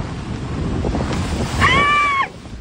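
Strong typhoon wind roars with crashing waves at the municipal fish landing in Pio Duran, Albay, a steady broadband rush that swells louder near the end, broken by a brief whistling tone.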